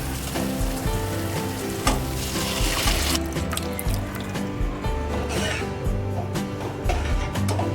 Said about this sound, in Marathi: त्याच्यामध्ये आपण डाळ ॲड करूया